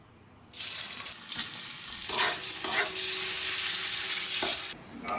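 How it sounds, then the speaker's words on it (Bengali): Marinated chicken pieces seasoned with salt, black pepper and chili powder hit hot oil in a pan, bursting into a loud, steady hiss that holds for several seconds before cutting off abruptly. "এবার তেলের মধ্যে ম্যারিনেট করে রাখা মাংসগুলো দিয়ে ভেজে নেব"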